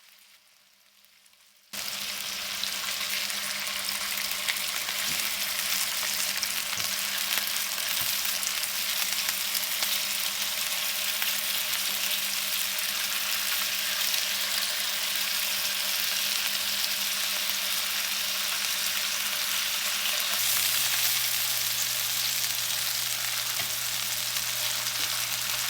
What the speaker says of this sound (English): Add the longanisa to the pan and sear the meat until it's lightly browned.